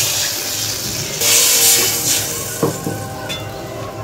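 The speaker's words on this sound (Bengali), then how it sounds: "এবার আমি জলটা দিয়ে দিচ্ছি" Water poured into hot oil in a pan for egg curry, a sudden loud hissing sizzle that swells and then settles into a softer bubbling hiss, with a few light clinks near the end.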